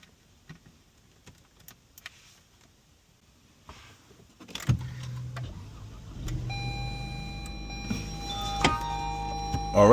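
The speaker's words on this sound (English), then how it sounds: "All right, start the car up." Quiet clicks and small knocks, then a Lexus NX 300 engine turns over and settles into a low idle, with a faint electronic chime near the end.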